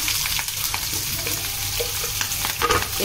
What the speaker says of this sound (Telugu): ఇప్పుడు ఉల్లిపాయలు పచ్చిమిరకాయలు వేసుకుందాం.